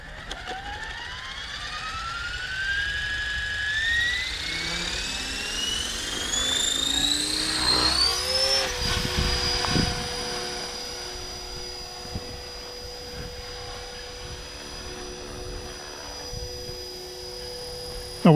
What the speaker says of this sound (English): this is the flight of the Blade 330S